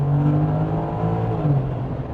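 A Ford F-150 pickup truck engine revs and accelerates with a steady, throaty drone that holds strong throughout, heard from inside the cab.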